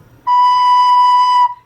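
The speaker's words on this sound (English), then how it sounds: "That's the kind of sound that we want to have on our recorder." One steady, mellow recorder note held for just over a second, clear and even in loudness, played alone.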